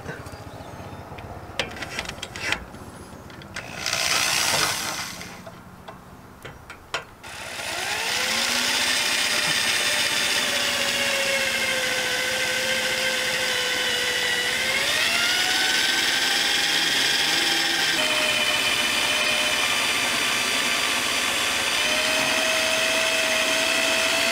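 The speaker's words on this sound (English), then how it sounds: "That drill bit's gonna want to walk around on you." A steady, loud whirring drill bores into a steel trailer frame, running continuously, its pitch wavering and shifting as it bites, after a few seconds of rattling and clanking.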